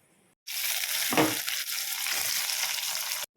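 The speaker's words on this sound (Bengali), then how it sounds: "নুন দিয়ে পেঁয়াজগুলো একটু ভালো করে ভাজা ভাজা করে নেব" Steady, loud sizzling of onions frying in hot oil, a continuous crackling hiss with a brief stir partway through.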